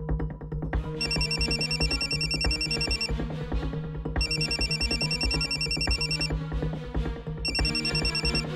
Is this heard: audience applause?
no